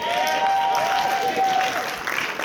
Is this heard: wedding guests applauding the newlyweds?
yes